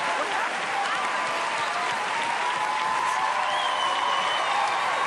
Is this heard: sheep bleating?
no